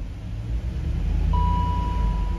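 A BMW X5 4.6is V8 idles with a steady low rumble and a smooth, even pulse, and a thin electronic beep starts partway through and holds.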